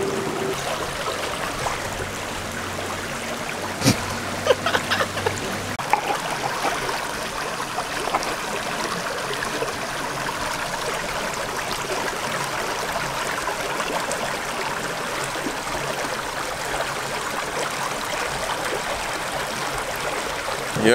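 River water flowing steadily beside an outdoor cooking spot in Jamaica, a broad continuous rushing wash with a few faint knocks near the start, fairly loud and unbroken, no talking.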